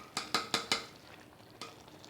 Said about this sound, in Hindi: कीमे और फलियाँ के अंदर मिक्स कर दूँगी।